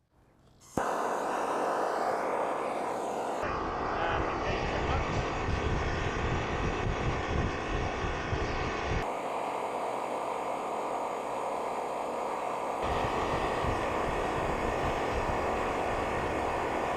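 A homemade Stirling engine on a bicycle runs with a loud, steady mechanical whir and hum after a quick start, with noisy wind-like roar and slight shifts in tone, then stops.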